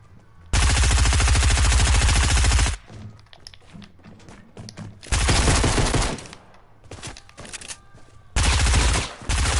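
A gray submachine gun in a video game fires in three long, loud automatic bursts, each a dense rattle of rapid shots, separated by quieter pauses with faint background sounds.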